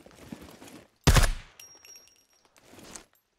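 An MK18 rifle fitted with an improvised oil can suppressor, fired in the survival game SCUM: a single sharp, loud shot followed by a short decaying tail, with softer game noises around it.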